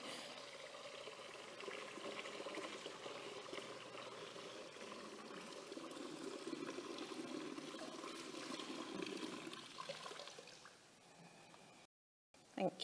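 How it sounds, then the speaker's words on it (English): A heavy jug of water is poured into a church baptismal font, a steady splashing trickle running for about ten seconds before tapering off, fairly quiet with no talking. "pour some water in"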